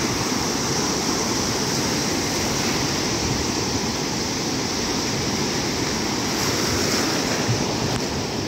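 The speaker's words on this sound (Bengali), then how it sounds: "সে ঢেউয়ের একটা বড় বড় দেওয়াল এসে আছড়ে পড়ছে" Big ocean waves crash and roll onto the shore at Gangamati beach in Kuakata, Bangladesh, a constant roaring surf with wind buffeting the microphone, no voices.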